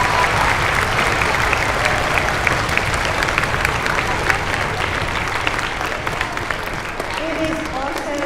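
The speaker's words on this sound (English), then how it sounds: "Can we give all of them a round of applause?" Audience applause fills a school Veterans Day ceremony, steady dense clapping from a crowd throughout, with faint voices underneath near the end.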